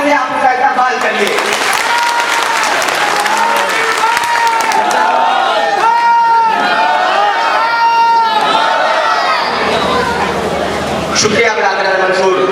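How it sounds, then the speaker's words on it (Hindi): Loud, dense applause fills a district-level convention of the All India Jamiyatul Mansoori society, with voices mixed into the steady roar of clapping throughout. "मैं चाहूंगा एक बार जोरदार तालियों से आप उसका इस्तेमाल करिए।"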